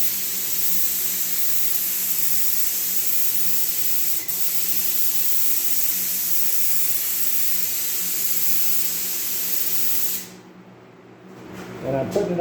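Spray can laying primer onto a motorcycle fuel tank for a GT185, a steady close hiss running about ten seconds before stopping, followed by faint handling noises.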